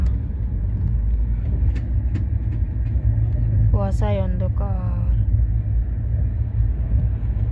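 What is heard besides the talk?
train rumbling while riding inside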